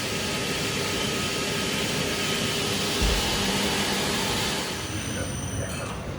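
HVAC unit blower in a training facility, running as a steady, loud broadband whoosh that gains intensity as dryers come on, with a brief thump midway and a drop in level near the end.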